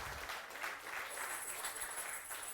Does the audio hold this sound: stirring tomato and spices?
no